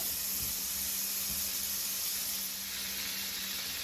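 Butter sizzles steadily in a hot pan while an orange-glazed salmon dish is being prepared, a constant bright hiss with no pauses and no talk.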